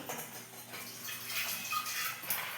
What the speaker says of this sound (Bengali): এখন আরেকবার দুবার ধুয়ে নিলাম ধুয়ে কুকারে দিয়ে দেবো